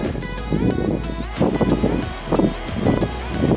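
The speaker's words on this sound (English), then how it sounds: "I know this wind's gonna be terrible" Strong wind gusts at Sand Hollow State Park, Utah, buffet the microphone with a loud, continuous low rumble that swells and fades in waves for a few seconds.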